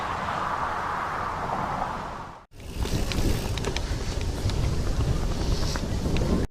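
Wind buffeting a microphone outdoors during a bicycle ride on a Merida Silex 300 gravel bike, a loud steady rumble that cuts out briefly near the middle and returns just as strongly.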